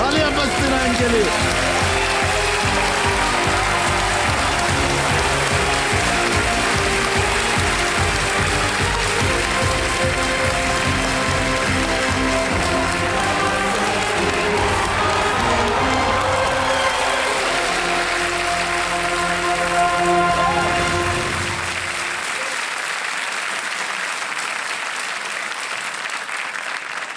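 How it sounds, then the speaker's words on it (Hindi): A quiz-show studio audience keeps up loud, sustained applause for about twenty seconds alongside rhythmic music and a host talking over it, before the clapping cuts off and only faint room tone remains. "तालियां बजती रहें इनके लिए।"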